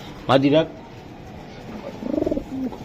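Pigeons at a pigeon market selling racer, Giribaz and Budapest breeds give a short burst of soft, throaty cooing, with a pulsing coo near the end and a brief voice-like call at the start.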